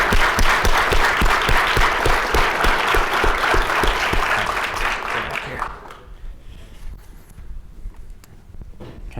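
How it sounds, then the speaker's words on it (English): An audience at a collegiate entrepreneurs high school pitch competition applauds the second-place winner with loud, dense clapping that runs for about five seconds before thinning to a few scattered claps, with voices talking through the tail. "Give him a round of applause."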